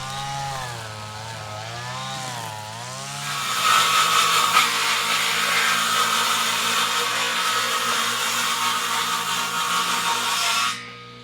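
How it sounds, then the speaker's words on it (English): A table saw rips 2x4 wood boards lengthwise in half. The motor whines and wavers briefly, then a loud, steady cut runs for about seven seconds before cutting off abruptly. "While we continue to use the table saw and split wood in half, Nicholas is just touching up"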